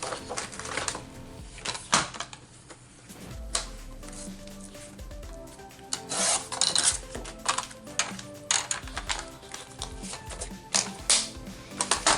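Scissors snip through scrap paper in a run of crisp, close cuts with short pauses, while small clicks and rustles from handling the paper come between them.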